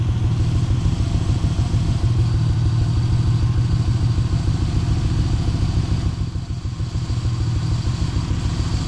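The engine of a 1995 Ford Explorer runs at idle with a loud, steady, rhythmic clatter and a low mechanical thrum, dipping briefly partway through. No voices are heard.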